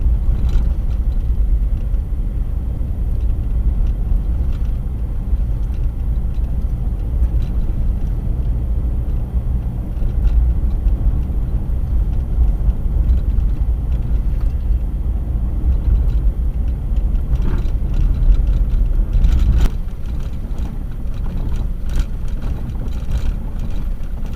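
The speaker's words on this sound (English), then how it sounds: "I'm doing 34, so that's about all I want to push on my truck, just because it is a little bit rough." A truck rumbles along a rough dirt road at about 34 mph, a loud, continuous low engine and tire drone with occasional jolts and rattles.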